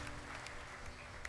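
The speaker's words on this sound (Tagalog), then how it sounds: "Pwede po ba minsan pa yung mainam na palakpak para sa ating Panginoon?" A church congregation applauds steadily, a dense patter of many hands clapping at moderate distance through a short burst, with no talk heard.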